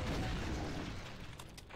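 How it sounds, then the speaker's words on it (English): A grenade blast in the first-person shooter Doom lands as a loud, low rumbling boom that fills the start and slowly decays, with a few small crackles near the end. "Gotta love grenades."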